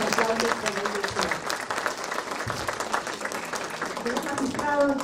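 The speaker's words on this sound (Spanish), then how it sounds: "Grandes aplausos para el doctor." An audience at a lecture gives a dense, sustained round of applause for a doctor who has just finished speaking, steady and fairly loud throughout, with a voice starting up near the end.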